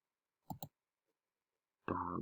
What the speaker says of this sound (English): Right click, create rigid group.